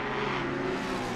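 A McLaren and a Mustang GT race car battling at Monza, engines roaring loud and steady at high revs, a sustained close drone with no pause.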